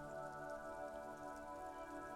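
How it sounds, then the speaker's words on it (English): Rain falls over city houses in the Disco Elysium video game, a faint steady wash with a low sustained musical hum underneath. "A silvery curtain of rain over the houses."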